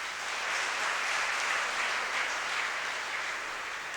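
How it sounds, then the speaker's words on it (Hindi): An audience breaks into broad, steady applause at a spiritual lecture, rewarding a young participant's courage; the clapping is dense and fairly loud and stays even throughout, with no voices over it. "इसके साहस के लिए पहले तालियां बनती है।"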